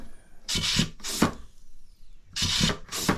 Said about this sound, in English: Now we're pulling the oil from the tank.